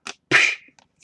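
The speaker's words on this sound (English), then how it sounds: "That sound is the whip cracking." Whip cracking: a short crack, then a louder sharp snap that trails off briefly, followed by faint small ticks, close and dry.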